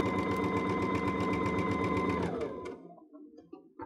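A sewing machine stitches a dress bodice in a fast, steady mechanical rhythm close by, then slows and stops, leaving a few faint handling clicks.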